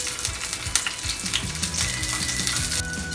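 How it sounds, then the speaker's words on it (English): Asparagus hits a hot, oiled frying pan and sets off a steady, close sizzle and crackle, with small clinks of the pan and utensil scattered throughout. "It's time to put the asparagus into the pan."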